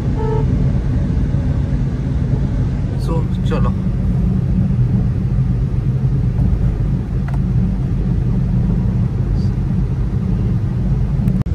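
Dense road traffic on a busy street makes a constant loud rumble of passing vehicles, with occasional horn toots, while someone speaks briefly over the noise.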